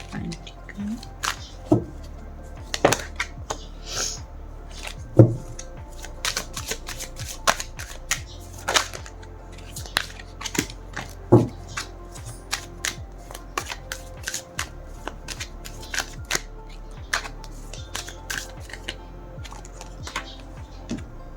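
Tarot cards are shuffled by hand in a quiet room, giving soft crisp riffles and sharp taps and slaps at irregular intervals, close and fairly faint, with a voice present at times.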